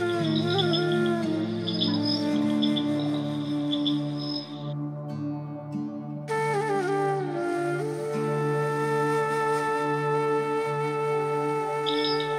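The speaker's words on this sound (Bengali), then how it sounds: "চারিদিকে শুধু ঝিঝি পোকার আওয়াজ।" Crickets and other insects chirp steadily around a homestay in a Darjeeling tea garden at dusk, a dense layered drone of tonal trills with occasional bird-like calls, no speech.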